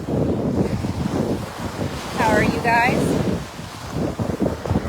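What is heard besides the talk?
ocean waves and wind at the beach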